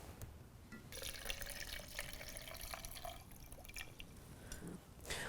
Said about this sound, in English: we're going to fill the water reservoir.